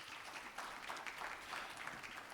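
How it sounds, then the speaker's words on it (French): A conference audience applauds during a break, a faint and fairly even patter of many hands clapping at some distance for a couple of seconds. "Oui, vous pouvez applaudir, il n'y a pas de souci."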